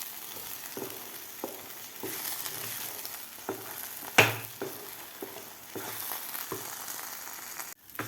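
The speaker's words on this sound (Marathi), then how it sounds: "परत आपल्याला 2 मिनिटं हे परतून घ्यायचं आहे मिश्रण" Carrot sweet mixture with cardamom and dry fruit being stir-fried in a pan, a steady sizzle with repeated scraping strokes of a spatula, close and even throughout.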